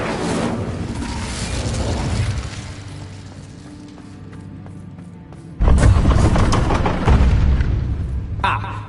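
In the video game Hogwarts Legacy, the Incendio fire spell erupts as a sudden, loud, deep whooshing blast partway through, rising out of a rumbling game soundscape with character voices speaking.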